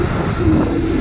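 A motorcycle with a 54-tooth rear sprocket roars during a wheelie, a loud, steady, close engine drone held for about a second.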